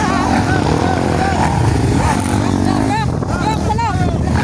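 Adventure motorcycle engine straining and revving as it climbs over rocks, a loud continuous motor drone with warbling pitch shifts, heard under excited voices talking and shouting nearby.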